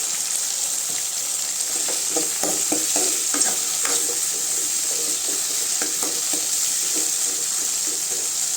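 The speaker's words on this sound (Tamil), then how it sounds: "தக்காளி நல்லா வதங்கட்டுங்க பாருங்க தக்காளி நல்லா வதங்கிடுச்சுங்க" Tomatoes sauté with rock salt in a pan for a mango vathal kuzhambu, a continuous sizzle broken by repeated scraping stir strokes, close and fairly loud with no talking.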